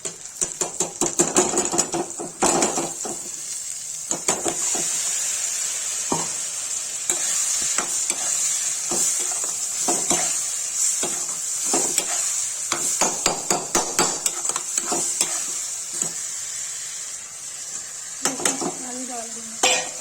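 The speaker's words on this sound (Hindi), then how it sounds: "गाइस टमाटर ग्राइंड के इसमें डाल देंगे।" Ground tomato purée sizzles loudly in a pan for an aloo palak (potato and spinach) curry, with frequent sharp scraping and clanking of a spoon stirring against the metal throughout.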